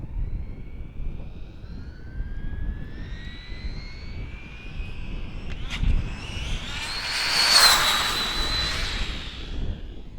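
A Traxxas Slash 4x4 RC car built for 100 mph makes a high-pitched motor whine that climbs as it speeds up, then roars past loudest near the end over steady outdoor noise.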